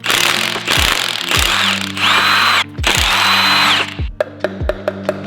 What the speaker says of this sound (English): From here, unbolt the rods.